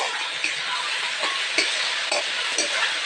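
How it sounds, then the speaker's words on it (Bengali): Radish and eggplant curry being stirred in a pan, a steady bright sizzle with soft scraping strokes recurring every half second or so, close and fairly loud, with no voices. "আবার একটু নাড়াচাড়া করে নেব"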